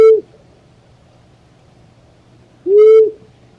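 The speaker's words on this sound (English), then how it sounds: "let me just quickly play a hoot" Two low, drawn-out owl hoots from a playback recording of an elongated nocturnal owl species often confused with the great horned owl, one at the start and a second after a long quiet gap.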